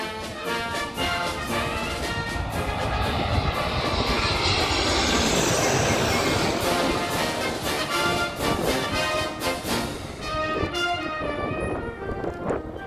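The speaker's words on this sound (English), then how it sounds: "being flown over by aircraft at the Gravely Point spotting location" Aircraft passing low overhead at Gravelly Point in Washington, D.C., a loud broadband engine roar that swells to a peak mid-pass and then fades, with faint voices nearby near the end.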